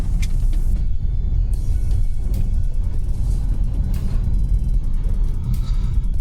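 A Tata Harrier EV with all-wheel drive and 505 Nm of torque slides around corners, heard as a steady close road rumble and tyre noise with faint electric whine and a few sharp ticks, no talk.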